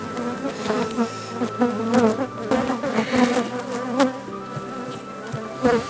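Honeybees swarm and hum around an open hive during hive work, a dense, close, steady buzz with individual bees zipping past the ear, and no one speaking.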